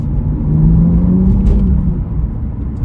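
A 2016 BMW M2 3.0 with a manual gearbox idles with a deep, steady exhaust rumble and a low engine drone, close and fairly loud, easing slightly toward the end.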